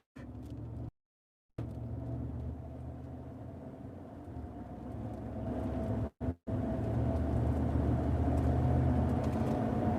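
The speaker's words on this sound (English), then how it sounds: "It's like there's this winding sound when I hit the gas" A pickup truck's engine gives a steady, droning whine as it accelerates along the road, heard from inside the cab. A continuous low rumble runs underneath, broken briefly by short cutouts.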